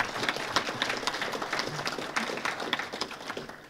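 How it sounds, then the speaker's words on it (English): Scattered applause from a conference audience at a symposium on private military security companies, honoring the organizers; moderately loud, uneven individual claps and a light crowd murmur, fairly close. "one more round of applause to all the conference organizers."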